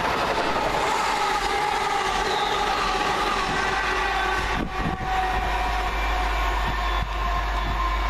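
A London Midland Class 350 passenger train rolls steadily past at Adderley Park, Birmingham, with a continuous rumbling roar and occasional rhythmic clacks from the wheels on the rails.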